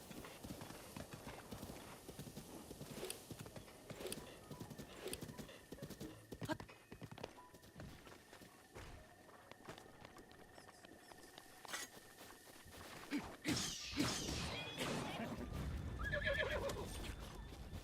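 In the game Breath of the Wild, a horse's hooves clop steadily at a gallop over continuous game sounds, and near the end the horse gives a sharp, loud neigh.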